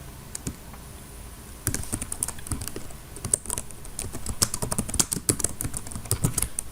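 Computer keyboard typing while writing React code: a few isolated key taps at first, then steady bursts of quick clicky keystrokes with short pauses, close and moderately loud, no voices.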